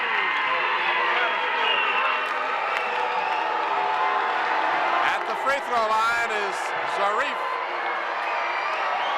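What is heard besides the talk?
basketball game crowd cheering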